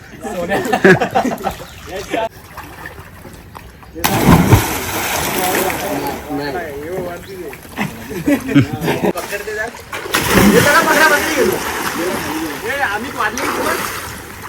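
People swim in a stepwell, churning the water into bursts of near splashing and sloshing that come and go, with lively talk and shouts throughout.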